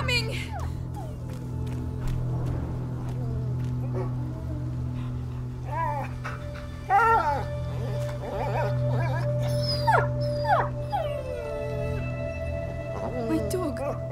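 Dog whimpering and howling in the video game A Plague Tale: Innocence, rising and falling cries over a steady low game drone, with character voices speaking around them.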